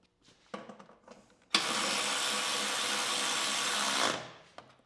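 An MTD snow blower engine is pulled into life after a few faint tugs, bursting into a loud, steady close roar for a few seconds before it is shut off and winds down.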